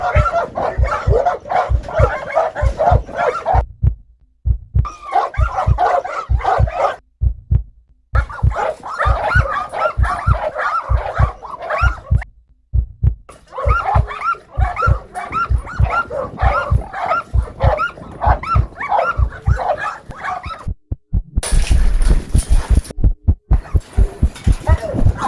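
A large dominant pitbull barks repeatedly in loud bursts and whimpers while challenging its handler during a training session, the barking close and persistent with brief pauses between volleys.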